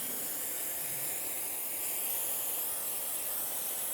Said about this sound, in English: And then take some brake clean to it.